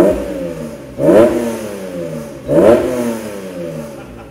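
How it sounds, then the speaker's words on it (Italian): A Honda NSX 3.0 VTEC engine with enlarged intake, two sharp throttle blips, each a loud rising intake roar that settles back to a steady idle, recorded close up with no talking. "L'aspirazione quando si accelera"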